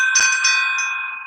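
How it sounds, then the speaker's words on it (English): A vintage brass bell rings with a couple of quick strikes near the start, then its bright, clear tone sustains and slowly fades, heard alone and close. "bell, which also cleanses and clears the house of things"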